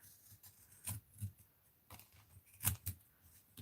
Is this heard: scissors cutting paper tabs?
yes